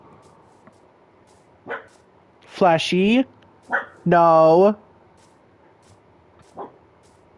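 A pet dog named Flash, an old dog, lets out a few short, separate barks indoors, while someone speaks loudly to it between them.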